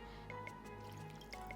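Water trickles and drips into a pan while fish is set up for steaming in a home kitchen, with soft irregular splashes and plinks over a low steady background hum.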